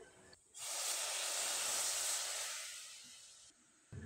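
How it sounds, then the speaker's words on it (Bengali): Jaggery with a splash of water hitting a hot wok, a sudden loud, steady hiss that holds for about three seconds and then slowly fades, close up, with no speech. "কড়াইয়ে গুড়টা দিয়ে দিলাম, আর সামান্য পরিমাণে একটু জল ব্যবহার করতে হবে।"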